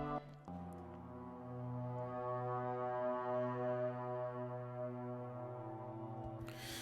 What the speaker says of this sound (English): So that's a cello, but what I like about it is that we've obviously put effects on it and stuff to make it sound a little bit almost like a bowed guitar